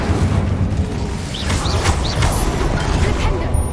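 Incendio fire spell cast in Hogwarts Legacy: a dense, steady whooshing roar of game effects with short rising magical chirps in the middle, loud and continuous throughout.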